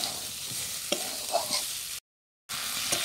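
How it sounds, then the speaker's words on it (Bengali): Potatoes and a ground spice paste are stirred and fried together for a village-style egg curry, with soft sizzling and occasional scraping stirs in the pan and a brief gap of silence midway. "আলু আর মশলা ভালোভাবে একসাথে কষিয়ে নেব।"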